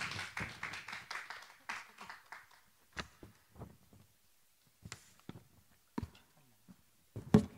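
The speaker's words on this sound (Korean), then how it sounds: "큰 박수로 환영해 주시기 바라겠습니다" Scattered hand claps from a small audience at a school admissions information session, sparse and uneven, dying away into a few isolated claps with quiet gaps between them.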